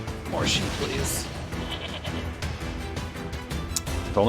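A few short sheep bleats ring out in the video game Nier Replicant over busy game sounds and music, with talking layered on top.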